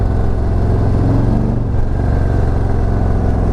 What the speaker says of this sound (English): The instant acceleration of this thing is crazy